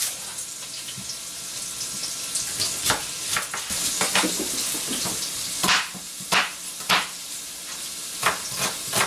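Diced celery sizzling in a hot pan while being stirred, a constant close crackle with several louder scraping sweeps and clatters in the second half, no talking.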